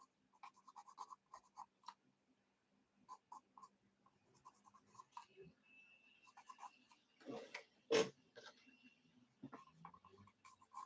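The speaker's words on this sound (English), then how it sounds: "I'm pushing back a bit with the white pencil crayon" A white pencil crayon rubs and scratches on paper in short, soft strokes close by, with one sharper knock partway through.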